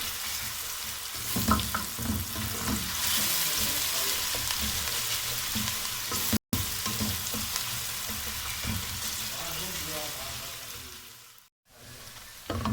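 Onions frying in a pan for beef karahi, a strong steady sizzle up close with irregular stirring scrapes and bubbling, briefly cut out twice, no voices.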